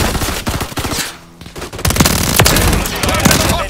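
Automatic gunfire in Call of Duty Modern Warfare 3 on the Favela map, dense bursts of rapid shots and sharp single cracks, loud and close, with a brief lull before the firing resumes under mixed game noise.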